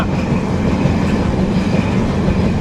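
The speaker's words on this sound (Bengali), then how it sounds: "আমাদের ট্রেন কিন্তু হেভি জোরে টানছে" Loud, steady rumble of a Kolkata to Dhaka train running fast on its tracks, a dense continuous roar heard from inside a carriage.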